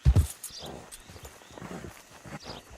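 Horse hooves clip-clopping in Red Dead Redemption 2, a quick burst of close, loud hoofbeats at the start followed by a lighter, irregular trotting rhythm under faint game ambience.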